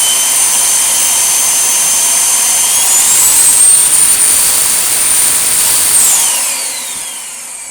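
A Miele C3 Powerline vacuum cleaner runs on a newly fitted motor, a loud, steady high-pitched whine that rises in pitch midway, holds, then drops back as the airflow changes.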